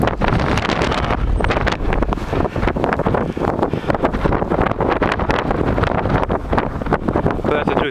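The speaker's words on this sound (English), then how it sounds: "Windy as heck out here today. Probably 30-mile-an-hour gusts." Strong, gusty wind, around 30-mile-an-hour gusts, blasts across the microphone outdoors in snowy terrain, producing a loud, continuous roaring rumble that never lets up.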